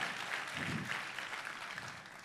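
A church congregation applauding for Jesus, steady dense clapping from a crowd filling the room, fairly faint and even, with a few low murmurs beneath.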